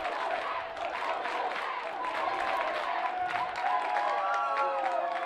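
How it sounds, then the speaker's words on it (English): Baseball crowd chanting "Let's go, Jack" at an NCAA Division III championship game, a steady, dense wash of many voices with clapping and cheering running throughout. "And now they're chanting, "Let's go, Jack.""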